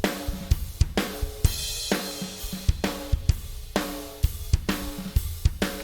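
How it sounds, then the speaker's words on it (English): Drum kit playing a steady groove, with kick, snare and cymbals captured by room mic and overheads through a compressor, giving punchy regular hits with a roomy, pumping sustain. "Another option is let's put the room mic in the main drum mix, but then maybe just put the overhead through the mains."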